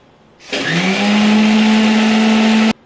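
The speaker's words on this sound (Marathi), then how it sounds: "मिक्सरच्या भांड्यात टाकून आपण फिरवून घेऊया" A mixer grinder blending powdered sugar whirs to life and holds a loud, steady high-speed whine for about two seconds, then cuts off abruptly.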